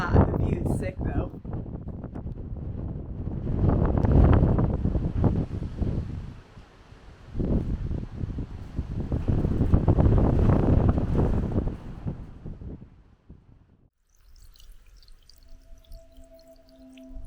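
Strong gusts of wind buffet the microphone atop a high fire tower in Vermont in loud, rumbling waves that swell and fade, easing off near the end.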